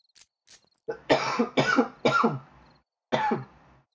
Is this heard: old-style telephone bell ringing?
no